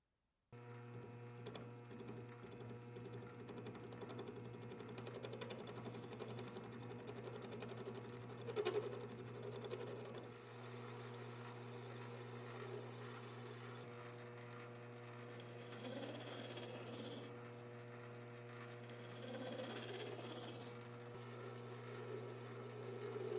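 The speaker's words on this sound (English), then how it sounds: "I'm just going to turn a quick little hex-shaped plug out of this." A small hex-shaped brass plug is turned on a lathe for a large steam engine build. A steady machine hum runs throughout, with brief cutting bursts near the middle and two longer stretches of brighter, rougher cutting noise toward the end. No voices are heard.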